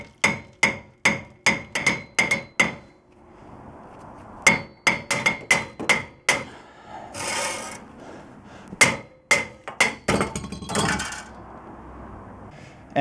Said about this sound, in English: the rubber mallet isn't working, so I'm gonna be switching to a regular hammer